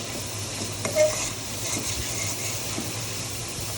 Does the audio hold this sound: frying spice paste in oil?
yes